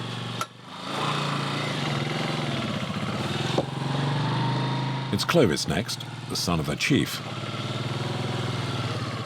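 A motorbike engine revving and labouring on a rough, rutted dirt track in Cameroon, loud and close with the throttle rising and dropping in bursts, while someone talks over it.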